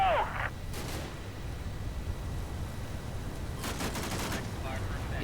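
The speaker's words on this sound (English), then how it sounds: "He's getting shot at." Gunfire in a tactical war video game: a couple of short bursts of shots, one at the very start and another cluster near the end, set over a steady low rumble of background noise.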